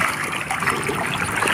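Pond water stirs and sloshes continuously as fish move about near the surface, a close, busy wash of small splashes and trickling with no voices.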